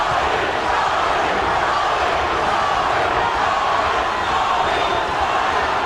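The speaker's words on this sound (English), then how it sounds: "Crowd begins to try to lift the champion." A packed arena crowd cheers for the champion at the 1994 Toney v Jones IBF title boxing fight, producing a steady, dense roar that holds at a constant level throughout without clear breaks.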